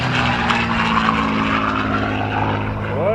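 A P-51 Mustang's propeller engine drones steadily and loudly, its low harmonic hum constant throughout, with a faint rising whine near the end.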